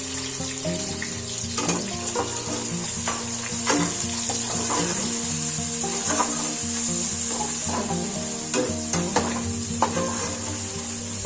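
Chicken with ginger-garlic paste fries with a constant sizzle while a utensil stirs and scrapes the pan in irregular strokes, close and fairly loud.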